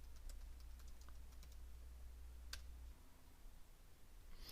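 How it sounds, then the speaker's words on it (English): Light clicks of a computer keyboard as a command is typed into a terminal, a scattered run of soft key taps at close range over a steady low hum, with no talking. "You can just type Heroku open"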